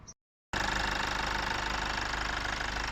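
After a brief moment of silence a Chrysler car engine starts and settles into a steady, close idle with a rhythmic low rumble.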